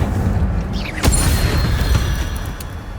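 Incendio fire spell cast in the Hogwarts Legacy video game: a sharp magical burst with a bright crackling whoosh, followed by a rumbling fiery roar that slowly fades, heard alone over low game ambience.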